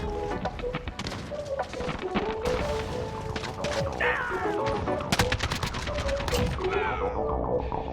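Rapid bursts of AK-47 fire in the shooter game Modern Warfare, loud and close, repeating in short uneven volleys over a busy layer of game sounds and impacts.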